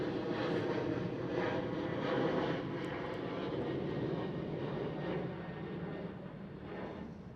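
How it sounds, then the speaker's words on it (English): A Cathay Pacific Airbus A350-1000 departs Schiphol in Amsterdam for Hong Kong, its broad engine roar steady at a distance and slowly fading toward the end. "Cathay Pacific Airbus A350 1000. The longer version of the Airbus A350. Off towards Hong Kong."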